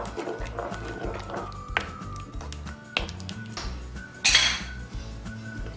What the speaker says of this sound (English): And now give it a good old stir.